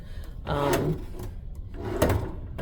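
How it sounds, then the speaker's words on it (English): Bathroom drawers in a Celebrity Equinox Retreat Suite on a cruise ship slide open and shut twice, close-up wooden rumbling runs with a light knock at the end of each. "Each of those drawers open and you can put things in"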